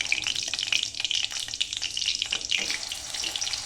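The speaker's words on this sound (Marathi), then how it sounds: "आता ते मी तेलामध्ये थोडंसं फ्राय करून घेते." Garlic and green chili paste frying in hot oil, a steady bright sizzle with soft crackling pops running continuously and close by, no voices over it.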